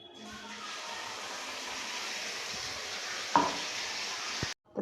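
A paste of peanuts, sesame and two green chilies hits a little hot oil with nigella seeds, giving a steady, close hissing sizzle, one dull knock near the end, then an abrupt stop.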